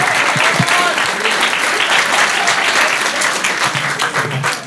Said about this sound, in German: Einen Applaus für unsere Gäste, bitte